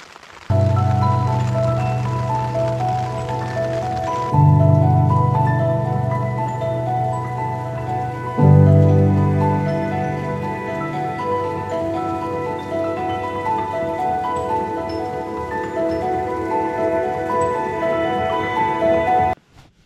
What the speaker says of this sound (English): you're just going to have to take my word that it's raining, although I think you pretty much hear that it is.